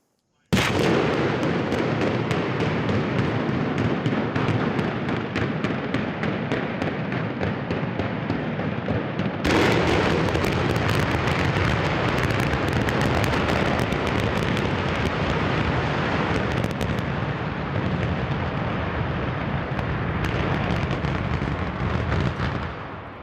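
Demolition blast at the Nanticoke coal generating station: a sudden heavy detonation opens into a long, dense rumbling roar with crackling debris, a second surge midway, sustained loud for over twenty seconds with faint voices beneath.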